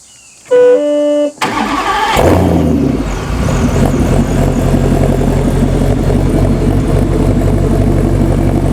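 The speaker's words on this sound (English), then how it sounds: "While I'm here, I might as well start her up. Just starts up with the push of a button." A push-button start of an SL-C car with an LT4 engine and a custom crossover exhaust into two rear-exit mufflers: a brief beep, then the starter cranks and the engine catches with a loud rev before settling into a deep, steady idle.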